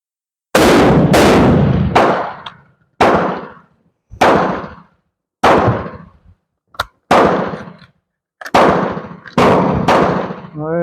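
Repeated gunshots from a Carcano 91/28 carbine rifle, about nine loud, sharp reports with ringing decays, fired at uneven intervals a second or so apart, one shorter crack among them.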